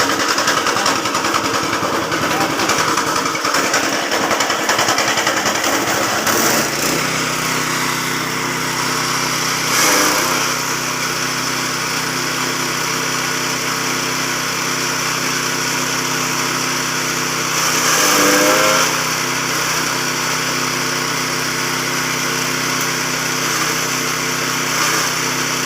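A heavy-duty shredder machine runs during a test, its motor starting with a rising whine and then holding a loud, steady mechanical drone with a few brief surges, with no one speaking.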